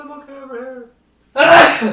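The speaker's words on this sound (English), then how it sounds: "Sneezing really loudly." A single loud, close sneeze bursts out right after a short spoken phrase, with a brief silence between them.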